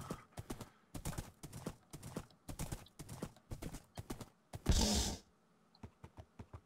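Horse hooves clip-clop at a steady walking rhythm in a video game, close and fairly quiet, with a louder burst midway.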